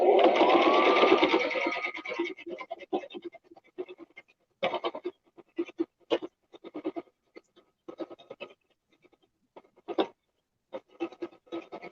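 Home sewing machine stitching a quarter-inch seam, a close, steady run of about two seconds at the start, followed by scattered light handling clicks and rustles.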